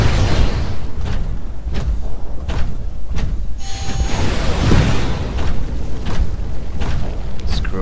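Rocket explosions in the Titanfall video game, a series of heavy booms and thuds spaced through a corridor fight, loud and close, with game noise and some voice between blasts.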